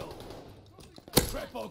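Gunfire from the shooter Call of Duty Vanguard, with one sharp close shot cracking out near the end after softer muffled bursts, while a voice talks over the action.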